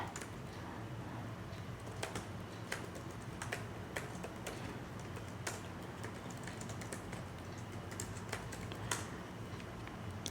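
Steady typing of code on a computer keyboard, with rapid, continuous key clicks and occasional louder keystrokes over a low background hum, close and alone with no talk.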